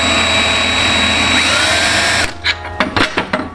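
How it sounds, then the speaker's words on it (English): A power drill whines loudly and steadily, then stops, followed by a few short bursts and clicks as the trigger is squeezed again. "I'm just gonna take my drill bit that I know goes down in here"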